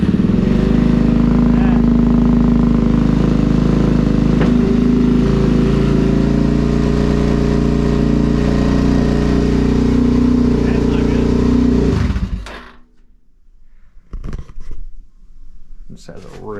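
A Suzuki DRZ-400SM motorcycle idles loud and steady close by after a cold start, its single-cylinder thump holding even for about twelve seconds before the engine cuts out, followed by quieter handling noises.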